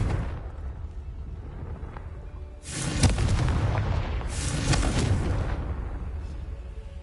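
The Confringo blasting spell in Hogwarts Legacy sets off two heavy booming explosions, a sharp blast with a rumbling tail followed by a second burst, loud and close over a low background rumble.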